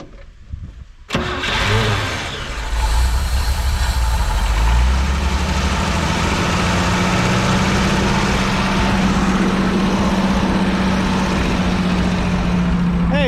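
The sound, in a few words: 1968 GMC truck engine starting and idling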